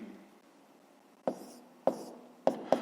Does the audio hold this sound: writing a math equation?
yes